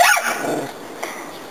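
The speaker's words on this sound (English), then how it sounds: "Cassie goes crazy when she sees another dog, she goes crazy and she bites Peaches when she's near her" A dog barks and growls while playing with another dog, a short loud burst at the start that fades quickly, followed by a faint yip, with no talking.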